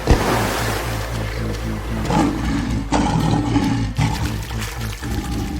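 Lion fighting a crocodile midstream in African waters, with a deep rumbling roar and splashing, churning water throughout, loud and close.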